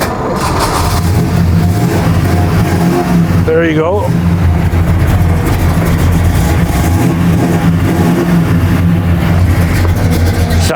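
A classic car engine at an estate auction starts and idles with a steady low rumble throughout, with a voice speaking briefly over it and a short rising whine of revving midway.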